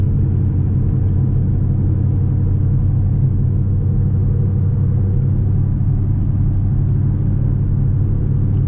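A car fitted with Speed Engineering headers is heard from inside while driving, a steady, loud, low engine and road rumble that continues evenly throughout with no talking.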